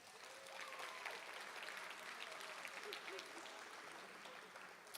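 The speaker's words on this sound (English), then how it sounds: "Give them a round of applause." Audience at a high school senior honors ceremony claps steadily for about five seconds, a fairly distant, even patter of many hands with no talk over it.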